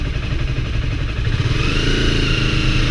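A motorcycle engine revs hard and continuously while racing an e-bike, its loud, close rumble steady throughout with rising revs toward the end.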